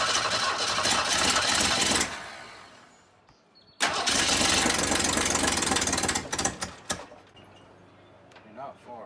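A long-abandoned Ford Falcon engine, unrun for 25 years and with leaking carbs and overadvanced timing, cranks and runs loud and rough, dies out for a moment, then fires again and sputters into uneven idle, with people talking nearby.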